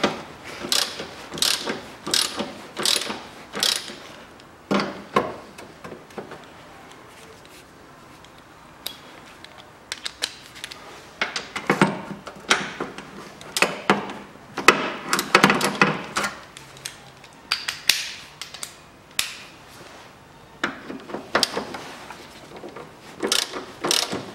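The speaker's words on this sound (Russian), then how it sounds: "Тогда ослабляю вот эти болты." Rapid bursts of ratchet clicking as a wrench loosens bolts while front struts are replaced on a 2012 Nissan Qashqai 2.0, repeated in several quick runs with short pauses between, close and crisp with occasional metallic knocks.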